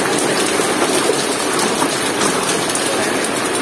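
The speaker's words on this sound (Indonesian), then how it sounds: "kondisinya lagi hujan teman-teman" Rain falls steadily outdoors during a wash of muddy toy cars, a dense, even hiss that stays loud and unbroken throughout, with no voices.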